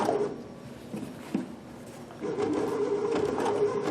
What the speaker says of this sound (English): just sew with the needle down position